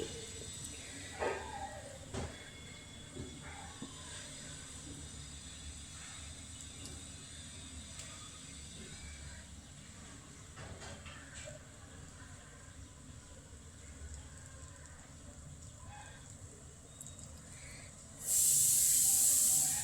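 An aloo paratha hits a hot griddle, giving a soft, steady hiss that runs faintly through most of the scene before a sudden louder burst of sizzling near the end.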